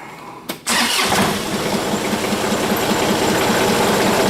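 A John Deere 2720 tractor engine cranks briefly, catches with a sharp start, then settles into a steady, loud, close diesel idle with no talking.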